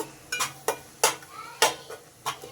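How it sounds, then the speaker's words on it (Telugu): Spoon scraping and clinking against a pot as garam masala, coriander powder and other spices are stirred together for a goat head curry, with several distinct, close metallic scrapes spaced irregularly and no voices. "1 స్పూన్ గరం మసాలా వేసి మంచిగా అన్ని మసాలాలు మిక్స్ చేసుకుందాం"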